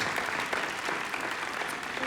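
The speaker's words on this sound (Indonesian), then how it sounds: "kalau kamu boleh tepuk tangan" A studio audience on an Indonesian television show claps in steady, dense applause at moderate loudness, with no voices on top.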